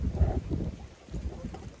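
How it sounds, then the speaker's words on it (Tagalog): Strong wind gusting around an outdoor hut, a rough, rumbling buffeting that swells and eases against the microphone for a couple of seconds, with no talk. "Grabe ng hangin guys, ang lakas ng hangin."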